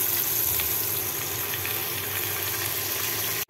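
Spinach sizzles in a pan with eggplant and potato already fried in it, along with green chilies, making a steady close-up frying hiss that runs on evenly and then cuts off abruptly at the end.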